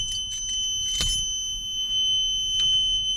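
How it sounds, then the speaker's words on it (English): A truck's headlight warning buzzer sounds as a steady, high electronic tone through the whole stretch, alongside faint cab rustles and a single soft knock. "our warning buzzer kicks in"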